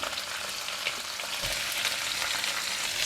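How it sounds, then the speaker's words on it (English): Cabbage and carrot stir-fry in hot cooking oil, producing a loud, continuous crackling sizzle with a brief thump of stirring midway. "I'm going to put in the cabbage and also carrot."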